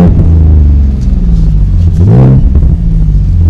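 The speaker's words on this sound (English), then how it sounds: "I'm gonna rev it for you for a minute" A V6 Ford Mustang engine idles with a deep, loud rumble, then revs up once in a rising surge before settling back into a steady low idle, heard up close.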